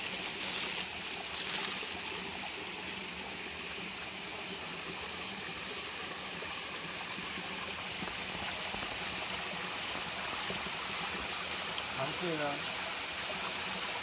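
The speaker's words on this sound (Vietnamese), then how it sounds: "Nước suối mà cạn nó trong vắt luôn." A shallow, clear mountain stream in Taiwan flows with a steady, close rushing and gurgling wash that fills the scene throughout, with brief faint sounds near the end.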